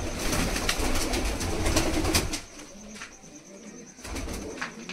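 A Makoya pigeon cooing close by, soft repeated coos with light chirps and rustling, fading briefly before resuming.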